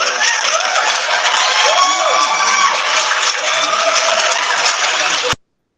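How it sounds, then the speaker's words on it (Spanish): A university lecture audience gives loud, dense applause mixed with cheering to welcome a coordinator, a steady roar of clapping that cuts off abruptly. "Vamos a recibir a nuestro querido coordinador con unos pequeños aplausos."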